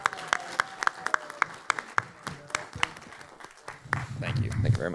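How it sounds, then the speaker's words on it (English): Audience applause at a fan convention starts as sparse, distinct claps from a few people, then swells into fuller crowd clapping and voices toward the end, with someone talking over it. "Round of applause for Alex fixing the mic."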